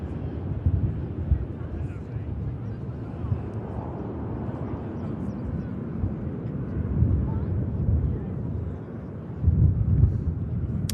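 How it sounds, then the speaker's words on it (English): Singapore Airlines airliner taking off for Houston from Manchester Airport, a broad low jet roar rumbling steadily at a distance with wind buffeting, swelling louder toward the end. "lined up next to go is our Singapore flight out to Houston"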